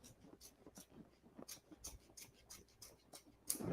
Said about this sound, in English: using my applique scissors and trimming it as close to that stitch line as possible